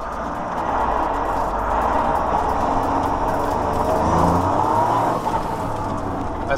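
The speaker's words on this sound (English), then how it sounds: "As you see the engine sound" Hydrogen-powered Toyota GR Yaris H2 engine idling and running, a steady rumbling drone with low hum, constant and fairly loud, with a slight rise in revs midway and no talk over it.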